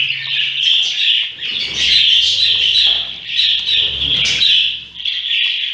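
Mubiş pigeon chicks call in a continuous stream of high, thin squeaking chirps, close and fairly loud, with faint low cooing underneath and no talking.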